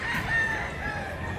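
A rooster, one of a pair of handsome game fowl, crows and clucks steadily at close range, a continuous, fairly loud call with no voices over it.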